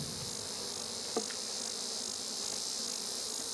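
Honey bees buzz during a hive inspection being treated for varroa mites, a dense steady drone close by with one brief tap, no talk.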